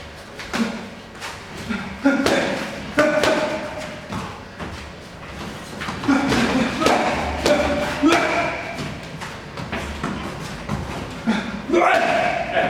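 During boxing training, punches land on the body with repeated dull thuds and slaps in irregular bursts. Shuffling footsteps and voices talking can be heard around the impacts.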